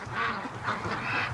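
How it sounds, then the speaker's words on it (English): Canada geese fly in with a flock of waterfowl, their faint honking calls overlapping in a muffled, distant chorus over a low background rumble. "Actually, the Canada geese are flying in."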